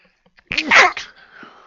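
One sharp, close sneeze bursts out abruptly, followed by a short breathy tail and quiet background.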